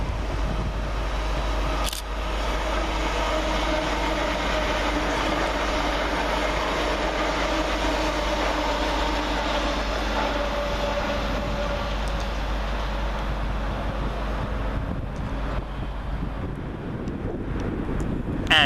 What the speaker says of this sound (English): First LUMO action of the day is 803005, working 1 Sierra 93 from London King's Cross to Edinburgh Waverley